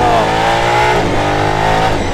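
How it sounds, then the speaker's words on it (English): A sports car engine revs hard and loud up close, the pitch climbing, dipping briefly, then rising again in a continuous roar. "This engine just wants to rev."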